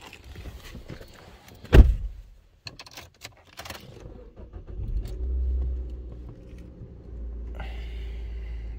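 A 2012 Nissan Juke with a 1.6 engine cranks and fires up inside the cabin, settling into a steady low idle after a few clicks and a key or door knock.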